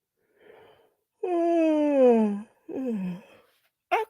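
A person yawns aloud, a long drawn-out voiced moan that slides downward, then a shorter second groan, close and fairly loud in a quiet room.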